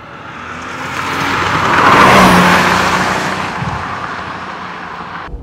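A 1989 Porsche 911 Turbo Targa engine roars as it accelerates, swelling to a loud peak and then easing off into a steady high-speed whine.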